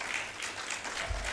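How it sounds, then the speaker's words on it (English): Summit audience applause, a brief wash of clapping filling the moment at moderate level. "Round of applause, please."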